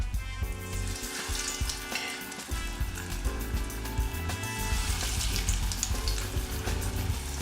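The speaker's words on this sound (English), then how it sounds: "Throw a little piece of the batter in, and you can see a nice fry like this" Batter dropped into hot oil fries with a steady, close, crackling sizzle that fills the whole stretch, with a brief spatter of louder pops partway through.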